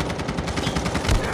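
Rapid automatic gunfire from the Call of Duty video game, a steady stuttering burst of close shots with one heavier thump near the end.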